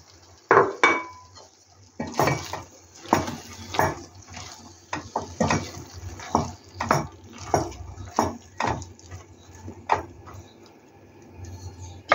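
Diced aubergines and courgettes are dropped into a pan of tomatoes and garlic and stirred, giving a series of close clattering knocks of a spoon against the pan at an irregular rhythm.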